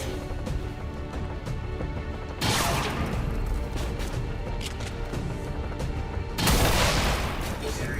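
Rapid fire gunshots in XCOM 2 break out as two loud bursts of shots over a steady game music bed, each burst hitting hard, then fading into the background.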